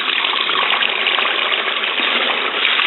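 Water rushes steadily through a recirculating gold sluice used for desert prospecting, a loud, even gushing hiss without pause.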